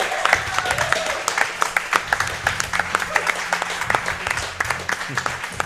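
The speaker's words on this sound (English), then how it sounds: "They all want to applaud you, so maybe we can do it all together." An esports audience at a grand final claps and cheers for the champion, a steady close patter of applause with scattered louder claps, and a voice briefly heard in the background.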